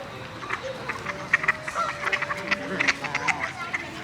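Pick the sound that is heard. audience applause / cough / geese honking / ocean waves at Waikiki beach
geese honking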